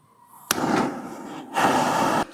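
A gas stove burner catches with a sudden close whoosh, followed by a sustained roaring rush. It cuts out briefly, then flares again in a second burst.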